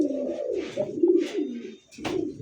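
A pair of Rasgolla pigeons with jug-shaped necks and crests coo in low, rolling phrases, several close overlapping coos with a brief pause before a final burst, no voices.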